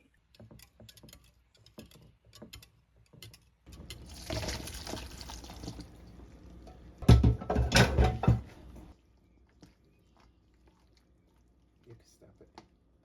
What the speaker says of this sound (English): Pour in your custard.